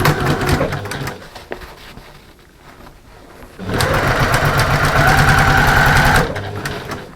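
A sewing machine stitches a fabric storage caddy in two bursts, a steady close whirring run at the start and a louder, longer run near the end, with a quieter pause between for adjusting the work.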